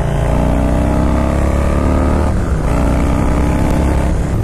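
Harley-Davidson motorcycle pulling hard along a twisty road, a loud continuous engine drone with a dense low rumble and steady power, heard close with no talk.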